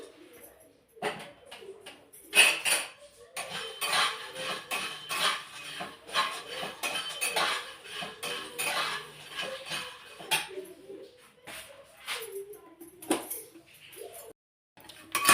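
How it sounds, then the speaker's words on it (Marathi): Peanuts rattle and scrape in a pan as they are stirred, an uneven clatter of pan noise with bird calls faintly in the background. "इथं शेंगदाणे वेगळे आहेत थोडेसे भाजून घेते मी"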